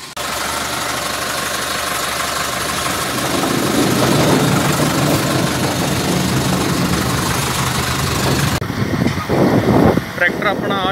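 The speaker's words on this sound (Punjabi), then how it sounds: "ਟਰੈਕਟਰ ਆਪਣਾ ਆ ਜਾ ਰਿਹਾ ਜੀ" A Sonalika Sikander 750 tractor, pulling a harrow toward a farm field, runs with a steady, loud engine drone that rises slightly midway and becomes rougher near the end, with voices talking over it.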